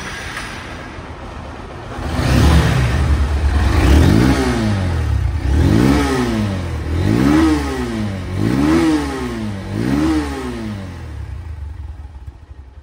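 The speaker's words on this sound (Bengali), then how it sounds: "রানিং অবস্থা আছে, সাউন্ডটা দেখেন কত নিখুঁত এবং শোরুম কন্ডিশন সাউন্ড।" Honda Hornet double-disc motorcycle engine idling, then revved repeatedly in a steady rhythm of rising and falling blips, loud and close, with no talk.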